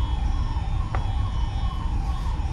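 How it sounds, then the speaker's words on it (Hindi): A siren wails faintly in the distance, its tone slowly rising and falling beneath a steady low rumble of outdoor noise. "सायरन की आवाज़ जो तो आपको सुनी रही होगी पीछे"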